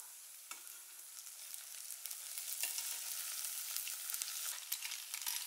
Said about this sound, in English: Fry one bay leaf torn up into pieces. Add onions and stir.